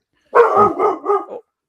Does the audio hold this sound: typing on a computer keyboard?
no